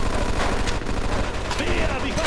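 Automatic machine gun fire rattles through a Mafia II firefight, loud and continuous, dense bursts layered with other gunfire and shouted voices underneath.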